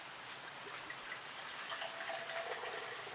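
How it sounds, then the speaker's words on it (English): Beer with a copper color is poured from high above the glass, giving a steady splashing, fizzing rush that stays fairly quiet and continuous throughout. "So I'm going to do a high pour."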